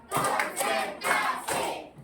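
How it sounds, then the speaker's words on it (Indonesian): Schoolchildren in a classroom clap together in time with their teacher's count, giving dense, loud bursts of many hands in a few rhythmic groups with brief pauses between them. "Tepuk empat."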